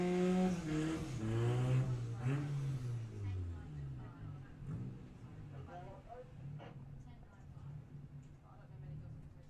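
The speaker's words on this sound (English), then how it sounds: "So next car burning out." A Volkswagen drag racing car roars through a burnout at Santa Pod Raceway during Greenlight Nationals qualifying, its engine note swooping and rising loudly up front, then sustaining. Commentary runs over the engine throughout.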